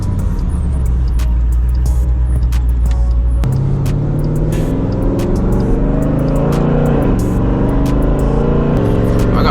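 Whipple-supercharged Jeep Trackhawk roaring loud and close, with a deep steady drone that shifts to a rising, busier engine note and a string of sharp exhaust crackles and pops through the downshifts.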